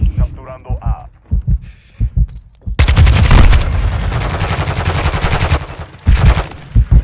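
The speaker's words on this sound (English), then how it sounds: "what is this gun effect? This is so bad." Loud, dense automatic gunfire from a picked-up gun in Call of Duty: Modern Warfare II, sustained for several seconds with a brief pause before another burst, after a few scattered shots and short game voice lines.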